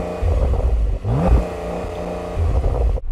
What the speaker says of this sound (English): Now, the Porsche 911 Turbo S isn't known for having the most fruity exhaust